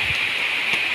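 Rain falls on a porang field, making a steady, dense hiss of drops with a few soft patters underneath.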